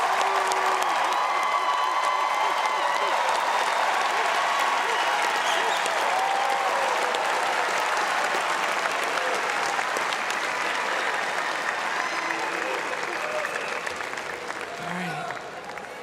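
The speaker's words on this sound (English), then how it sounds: "Please give all of our CVCC graduates another round of applause." A large audience at the CVCC 2026 commencement ceremony gives the graduates a long round of applause, sustained dense clapping with scattered cheers and whoops, easing slightly toward the end.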